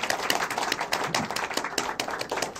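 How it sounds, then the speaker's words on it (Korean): An audience at a film guest-visit screening of Though the Rose has Withered claps briefly, a busy cluster of overlapping hand claps at moderate volume lasting a couple of seconds. "박수 부탁드릴게요."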